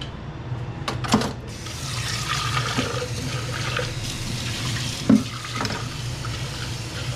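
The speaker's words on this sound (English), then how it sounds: "I like rinsing it out a little bit just because it makes it so much easier to clean if I do that from the start" Water running steadily from a kitchen tap as a cooking pan is rinsed out after making spicy shrimp, with a couple of sharp knocks of the pan against the sink amid the continuous splashing.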